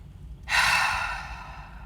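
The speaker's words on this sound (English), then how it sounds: "actively take a really deep belly breath and then exhale. So breathe in through your nose" A single deep breath drawn in through the nose during a belly-breathing mobility exercise, a sudden loud airy rush that begins after a quiet moment and slowly fades into a long exhale, close and with no talking.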